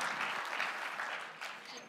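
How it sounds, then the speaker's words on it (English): Audience applause at a motivational talk: a sustained wash of clapping from a room full of people, moderately loud and even, tapering slightly near the end. "I'll give them a round of applause for being so courageous."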